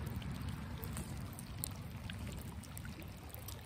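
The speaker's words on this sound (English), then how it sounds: "so it's a very small bubbling of water out of the ground. So a very small spring." Low, steady rushing and trickling of water from a small spring bubbling out of the ground outdoors, a continuous soft wash with no talk over it.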